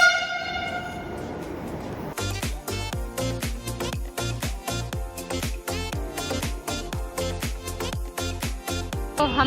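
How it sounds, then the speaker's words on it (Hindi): Metro train pulling into an underground station in Delhi, first a rising hum, then a loud rhythmic run of clanking wheel beats with a horn-like tone, close and continuous. "मेट्रो आ रही है।"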